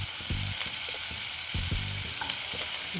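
Tomatoes go into a pan of frying ghugni, a spiced curry, and sizzle steadily as a spoon scrapes and stirs in a few distinct knocks, close and clear with no talking.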